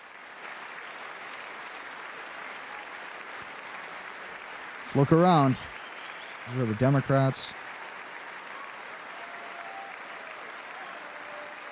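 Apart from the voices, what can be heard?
applause, clapping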